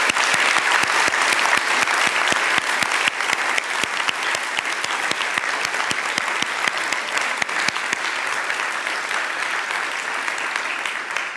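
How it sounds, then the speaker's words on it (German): Audience applause at the German Nonfiction Prize 2022 award ceremony: dense, sustained clapping from a large crowd holds steady and loud for the whole stretch, with no voices over it. "aber den ganz großen Applaus haben Sie an dieser Stelle noch mal verdient."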